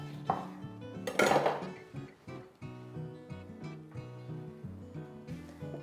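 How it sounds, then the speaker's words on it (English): A beetroot mixture seasoned with lemon and cayenne is stirred in a bowl, giving close clinks and a rhythmic scraping of utensil against the bowl, strongest early and then steady and softer. "And give that a good stir through."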